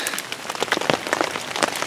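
Steady rain falls on surfaces outdoors in a backyard, with a dense, continuous patter and scattered louder drops close by. No one speaks.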